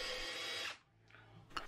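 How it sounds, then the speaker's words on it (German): A drill bores a 5 mm hole into wood, a loud steady whirring that cuts off abruptly, then a few faint brief mechanical sounds follow. "Nun die 5 mm Bohrung."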